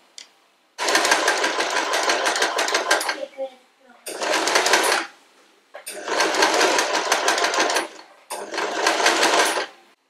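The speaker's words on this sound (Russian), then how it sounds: "И прошиваю вот здесь на швейной машине" A sewing machine stitches cotton fabric for a child's dress in four loud bursts of rapid mechanical whirring, separated by short pauses with faint handling sounds between them.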